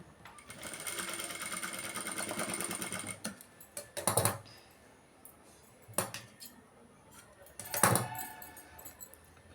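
A sewing machine runs steadily for about three seconds while stitching a designer blouse, then falls quiet; a few sharp clinks and short clattering bursts follow, close and soft, with no voices.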